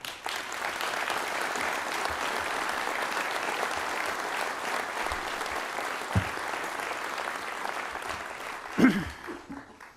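An audience at a New Year's wishes ceremony for local residents claps in sustained applause for about nine seconds, then it thins out and fades at the end.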